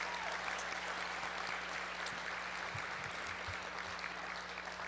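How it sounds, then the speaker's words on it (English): Applause fills the hall at a mayor's dinner, a broad, even wash of many hands clapping at a distance, steady and fairly faint with a low hum beneath. "May you and your board deserve a huge round of applause for what you do"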